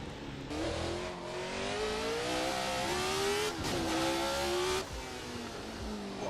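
A 1970s Formula 1 car engine in Assetto Corsa screams at high revs, its pitch climbing and bouncing against the rev limiter, loud and continuous with brief dips.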